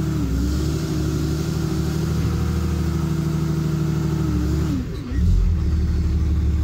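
Vehicle engine running after a 68RFE transmission valve body install, a close steady hum that dips briefly near the end as the transmission is shifted, then settles at a slightly raised level.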